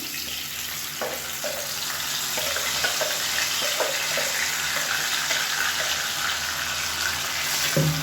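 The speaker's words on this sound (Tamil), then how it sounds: "இப்போ இதில் நம்ம அரைச்சி வச்சுருந்த சட்னியை சேர்த்துக்கலாம்." Ground onion chutney added to hot oil already tempered with mustard seeds and curry leaves, a continuous loud sizzle with scattered crackles and stirring clicks, no talking.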